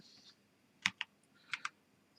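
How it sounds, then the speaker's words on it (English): Sparse keystrokes on a computer keyboard, a few quiet isolated clicks in two small pairs, close by against a near-silent background. "now you type the IP number"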